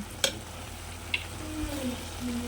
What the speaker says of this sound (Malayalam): തക്കാളി, ഉള്ളി, ഇഞ്ചിയെല്ലാം വഴന്ന് വന്നിട്ടുണ്ട്.